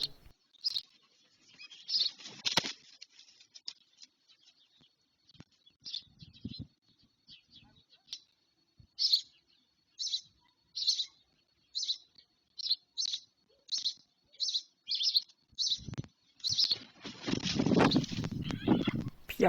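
White stork chicks in a nest give a long run of high, repeated chirping calls in regular pulses, growing busier toward the end, with bursts of clattering and wind noise over a quiet background.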